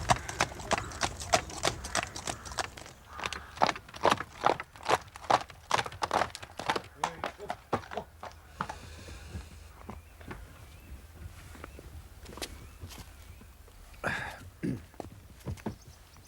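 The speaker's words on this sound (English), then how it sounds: "Puedes ensillar el caballo y guardar el coche." Horse hooves clip-clop in a steady walking rhythm as a horse draws a carriage, close and clear, slowing and thinning out toward the end with a few scattered final steps.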